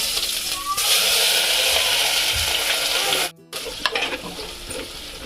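Garlic crackles and sizzles loudly in hot oil while crab curry is being cooked, a steady frying hiss that briefly cuts out, then resumes with lighter spattering and a faint voice.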